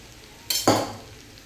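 Sweet potato pieces with crushed peanuts being stirred in a pan, giving two quick scraping, sizzling bursts close up, then a fading rustle before quiet.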